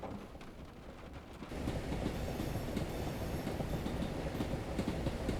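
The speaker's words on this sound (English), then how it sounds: "Oh, there's another train." Train passing in Train Simulator Classic on a foggy, rainy London to Birmingham run, a continuous rumble with clickety-clack wheel beats that swells louder after a moment and stays steady.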